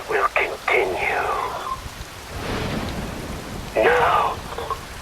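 Rain and thunder in the video game Metal Gear Rising Revengeance: a steady wash of falling rain with a low rumble of thunder in the middle, partly under a speaking voice at the start and end.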